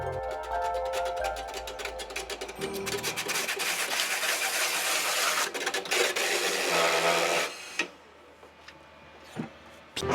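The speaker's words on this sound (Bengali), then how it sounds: "মেশিন দিয়ে নারকেলগুলোকে খোলাগুলো ছাড়িয়ে নেয় বাজারজাত করার জন্য" A coconut husk removing machine runs with a continuous raspy, grinding mechanical whir, fairly close and steady before easing off near the end.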